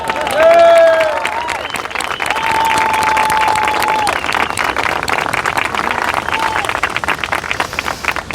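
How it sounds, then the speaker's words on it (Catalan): A crowd of around sixty people applauding and cheering at the departure of a round-the-world walk, steady and loud, with a whistle-like tone and voices mixed in. "Un aplaudiment."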